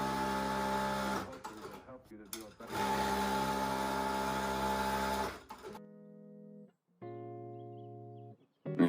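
A JUKI DDL 8000A industrial sewing machine runs at high speed with a steady, close mechanical whir, stopping briefly, restarting, then giving way to shorter bursts of stitching near the end.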